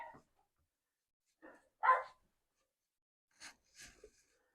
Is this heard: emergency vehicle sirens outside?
no